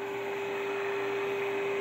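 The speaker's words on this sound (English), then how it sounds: "the tone from the signal generator, 400 hertz tone, is coming through clear" Steady 400 Hz tone from a signal generator received through a radio, a constant pure whine held evenly over a faint hiss, with no talking.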